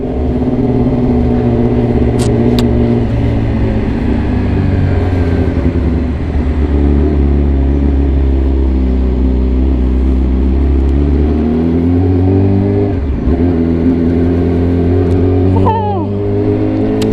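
A car being driven, a loud steady engine hum with a low rumble throughout and a brief dip and change of pitch near the end, recorded from inside the vehicle.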